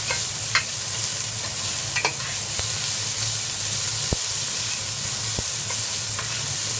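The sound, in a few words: onions frying and stirred in a pan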